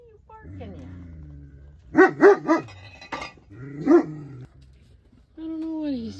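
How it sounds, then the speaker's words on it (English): A dog barks in a quick burst of three yips, then once more, with someone speaking before and after the barks nearby. "What are you barking at?"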